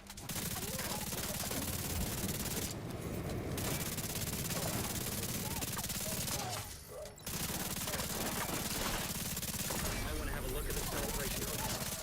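Rapid automatic gunfire from The Division 2, a loud, nearly unbroken rattling stream of shots lasting several seconds, pausing briefly twice, with a voice speaking over it.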